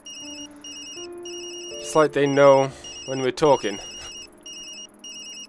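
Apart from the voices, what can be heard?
phone ringing in the video game Tokyo Dark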